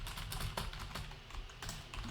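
Steady typing on a computer keyboard while writing content in a block editor, quick soft keystrokes under a constant hum of background noise.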